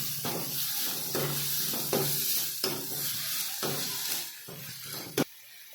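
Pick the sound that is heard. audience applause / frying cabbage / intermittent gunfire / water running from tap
frying cabbage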